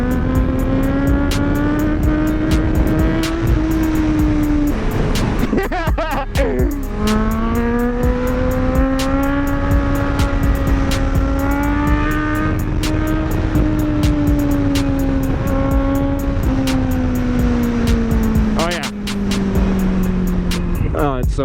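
A sport bike's engine holds a loud, sustained whine while accelerating through a wheelie, its pitch sweeping up and down across shifts, close to the microphone with a rider talking over it.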